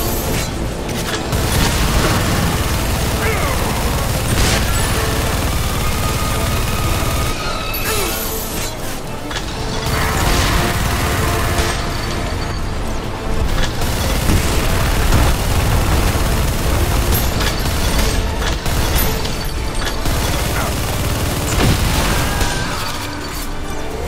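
Heavy explosions and booms from a Duke Nukem shooter game roll on over a long, loud battle, with blasts and crashes piling up close together throughout.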